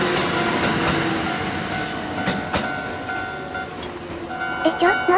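A local electric train of 4-car and 2-car sets, 2800 and 8422 series, rolls along a railway near the Takada River in Nara. It gives a steady rumble with clicking wheels, squeals and a brief horn-like tone, heard from nearby.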